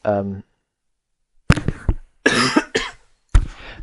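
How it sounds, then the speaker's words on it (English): A man coughs several times in quick, harsh bursts, close to the microphone, after a short voiced sound during an indoor demonstration of a cart storage system. "sorry, I've got a bit of a cough."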